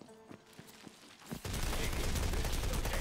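Sniper rifle fire in Tiny Tina's Wonderlands. A few scattered, fainter shots and clicks come first, then a loud, dense barrage of gunfire and blasts breaks in and keeps going to the end.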